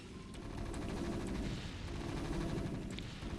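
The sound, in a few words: Terran siege tanks firing on Protoss cannons in StarCraft video game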